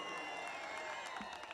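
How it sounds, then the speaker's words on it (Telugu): An audience at a film pre-release event breaks into applause, a brief, fairly faint wash of clapping and crowd noise heard at a distance in a large venue. "చప్పట్లు కొట్టండి"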